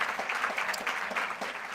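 Audience applauding a spoken word performance at a fundraising breakfast, a steady wash of many hands clapping at moderate volume throughout, no voices over it.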